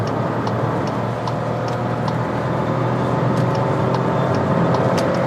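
Inside a car accelerating at full throttle on a road from 60 to 120 km/h, a steady, loud engine and road roar fills the cabin, with faint regular ticking over the constant drone.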